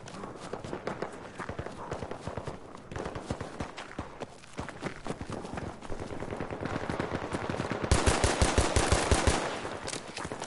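Rapid gunfire in the video game Battlefield 2042 crackles in bursts among running footsteps, growing denser and louder toward the end.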